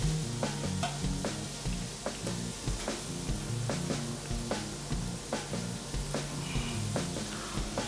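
Thyme sprigs fry in a pan, crackling and popping in irregular bursts over a constant hiss, close and fairly loud, with no voices.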